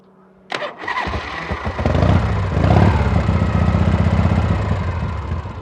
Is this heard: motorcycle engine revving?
yes